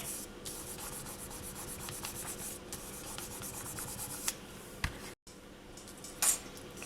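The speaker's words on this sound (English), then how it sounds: "just burnish this down thoroughly, because you're busy smoothing out" Polymer clay being burnished and smoothed by hand for a dragon scale pendant, a faint, continuous close rubbing and scraping with a few small clicks and no talk.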